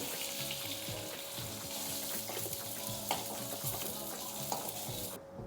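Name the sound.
fish frying in oil in a kadai, being lifted out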